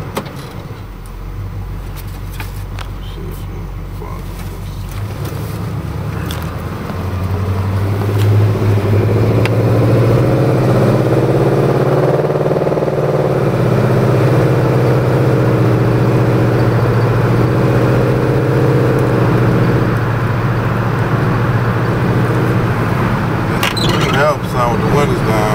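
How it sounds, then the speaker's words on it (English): Cutlass car engine heard from inside the cabin, idling low and then swelling into a sustained deep rev that holds before easing back, loud and close, with a voice talking early on. "Inside the vehicle when he revved up."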